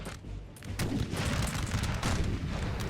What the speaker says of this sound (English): They got to be firing cluster shot at that range.